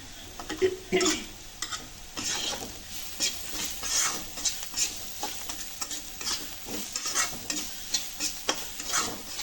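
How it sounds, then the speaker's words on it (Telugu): Egg fried rice frying and stirred in a pan, with steady sizzling broken by repeated scraping and tossing strokes of the spatula, close and fairly loud throughout. "ముందుగా మనం ఫ్రై చేసుకుని ఎగ్స్ కూడా వేసేస్తున్నాను"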